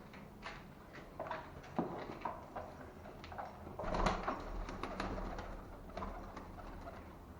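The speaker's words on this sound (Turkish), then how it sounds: "İçeride hala kuşlar şey yapıyor." Soft, low cooing of pigeons in a loft repeats in the background, with scattered rustles and faint knocks nearby and no talking.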